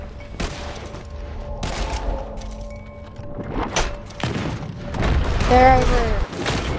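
Gunshots from a hard-to-aim gun in the video game Red Dead Online, several loud close shots with heavy booming tails spread across the scene, mixed with in-game sounds and a person talking.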